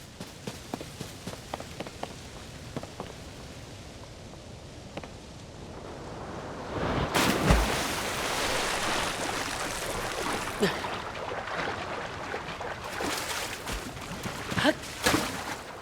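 Splashing and rushing water as a character plunges into a large body of water in Zelda: Tears of the Kingdom, a soft patter of small drips first, then a louder sustained wash with scattered splashes.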